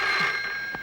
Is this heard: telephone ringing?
yes